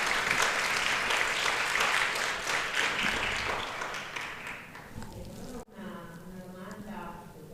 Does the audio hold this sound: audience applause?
yes